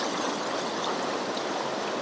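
Short pocket water on a stream, the Rubicon River in Victoria, Australia, rushes and burbles in a steady, full broadband wash with no pauses or voices.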